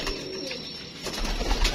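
Pigeons cooing close by in a short burst, soft throaty calls over a quiet background with some rustling toward the end.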